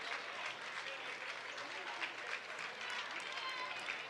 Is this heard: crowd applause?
yes